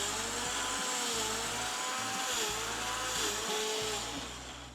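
A mixer grinder whirs loudly while grinding rice for appam batter, a steady high motor roar whose load shifts every second or so as the contents churn, with no voices.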